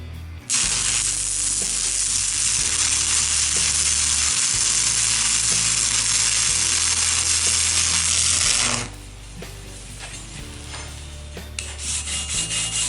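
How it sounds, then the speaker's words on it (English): Stick welding with a 7014 rod gives a loud, steady crackling sizzle that runs about eight seconds and then cuts off, leaving quieter background noise. "It may take me a rod to get warmed up and back into the swing of things."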